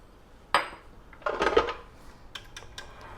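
Softened butter and brown sugar worked together in a mixing bowl, heard as a few close scraping clatters of a utensil against the bowl with short pauses between them.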